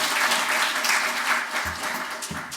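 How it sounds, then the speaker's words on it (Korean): Warm applause from a mostly elderly audience at a hospital health lecture on asthma, dense clapping that swells and then thins out, with low thumps near the end. "큰 박수 부탁드리겠습니다."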